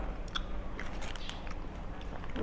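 Kinder Hippo chocolate cream-filled wafer being bitten and chewed close up, with faint, steady crunching and soft mouth sounds and no talking.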